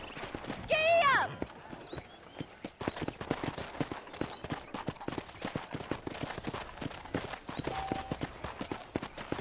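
Horse hooves clip-clopping at a run in the video game Red Dead Redemption, a steady rapid rhythm close by, with a brief whinny near the start and a voice urging the horse on over it.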